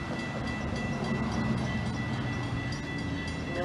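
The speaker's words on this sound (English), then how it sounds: "Milwaukee West train number 2248 to Chicago Union Station is now arriving." Steady rumbling of a Metra Milwaukee West commuter train arriving at Bartlett station, dense low mechanical noise with faint squeals on top, continuous and fairly close without any voices.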